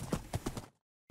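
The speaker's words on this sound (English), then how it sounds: "So let's ride the horse and kill." Animated horse hooves clip-clop in a Minecraft-style ride, four quick evenly spaced thuds close up, then the sound cuts out abruptly with a brief resumption at the very end.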